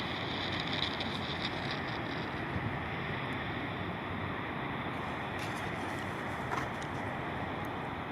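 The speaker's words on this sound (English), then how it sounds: "Falcon 9 has lifted off from Vandenberg Space Force Base in California" SpaceX Falcon 9 rocket climbing after liftoff from Vandenberg Space Force Base, California, a steady broadband roar and rumble heard from a distance, constant throughout with no talking.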